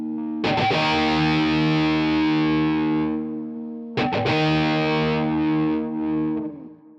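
Electric guitar played through a Valeton GP-150 multi-effects unit on a distortion preset, two sustained distorted chords ringing out with a gap between, loud and close with no talking.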